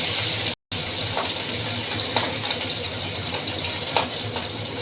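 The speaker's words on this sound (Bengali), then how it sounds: "আস্তে আস্তে সব মাছগুলো আমি তেলের মধ্যে দিয়ে দিচ্ছি" Marinated hilsa fish pieces slid slowly into hot mustard-style cooking oil tempered with black cumin seeds: a steady, close, dense frying sizzle and hiss throughout, with a few soft pops and one brief dropout near the start.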